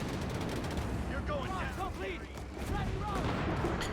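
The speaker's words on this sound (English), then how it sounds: "Got the anti-tank and the Greyhound there firing at the Stug." Continuous battlefield gunfire in Company of Heroes 3, with an anti-tank gun and a Greyhound armoured car shooting at a StuG; dense, rapid shots and booms run throughout while someone talks over them.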